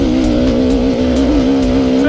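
Honda RR300 enduro two-stroke motorcycle climbing a hill on an enduro loop in fourth gear, its engine holding a steady, loud, continuous drone with a strong tonal hum and rough low-end rumble throughout, close to the rider.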